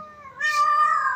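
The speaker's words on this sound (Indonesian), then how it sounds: "Ada suara monster monster kucing" A monster cat in a cartoon gives one loud, drawn-out meow with a rising wail, close and clear, with no talking over it.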